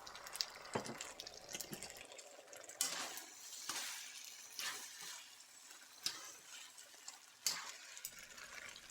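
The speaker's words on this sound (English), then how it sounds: "I'll pour in half to start and see where it's at." Miso sauce poured into a sizzling pork and udon noodle stir-fry, a wet splashing pour over steady frying hiss, with a few clinks and taps of utensils against the pan.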